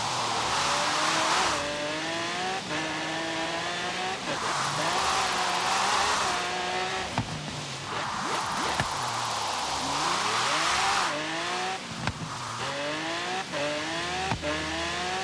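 Lamborghini Gallardo LP 570-4 Superleggera from 2011 in Forza Horizon 3 running flat out near 215 mph, its exhaust a steady, loud, continuous engine howl with rising and falling harmonics and slight glitchy wavering, no talk over it.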